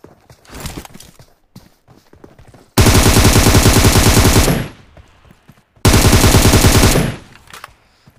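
Automatic gunfire in the PUBG battle royale video game erupts in two long, loud sustained bursts, preceded by scattered quieter shots and footstep-like clatter.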